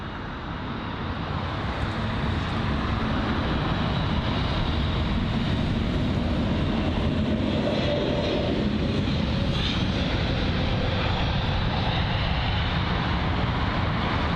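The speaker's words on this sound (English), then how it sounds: "you've got the Swiss A320neo on departure now" A Swiss Airbus A320neo departing London Heathrow, its jet engines building into a loud, steady, broadband roar that holds throughout.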